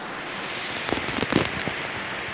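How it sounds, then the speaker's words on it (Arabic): The Kasakh river in the Ashtarak valley of Armenia rushes steadily past, a constant broadband wash of flowing water with a few louder splashes midway and no voices. "هذا نهر خشخ"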